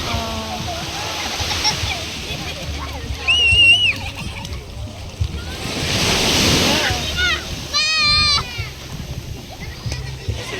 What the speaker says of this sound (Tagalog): Ayan, malakas yung alon.